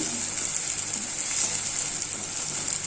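Four eggs frying in a pan, a steady bright sizzle and crackle that holds evenly throughout, close and continuous with no voices.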